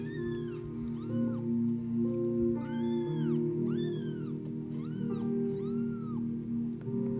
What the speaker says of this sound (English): she was a stray outdoor cat that we would just feed for breakfast and dinner